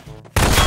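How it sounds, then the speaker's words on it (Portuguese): After a quiet moment, a sudden burst of rapid gunfire in a GMod game erupts, loud and sustained until the end. "errei os tiros!"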